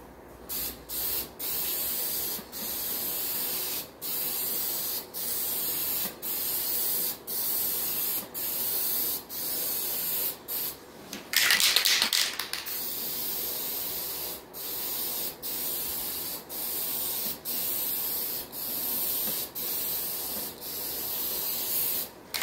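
Aerosol spray paint hisses in short, repeated bursts over old tape covering holes, a steady series of spritzes with brief gaps between them and one rougher, louder burst partway through.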